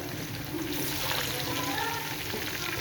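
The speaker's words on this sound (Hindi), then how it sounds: "प्याज हमारा फ्राई हो रहा है" Onions frying lightly in a pan for Chinese-style rice give off a soft, steady sizzle and crackle, faint and continuous, with a voice speaking over it.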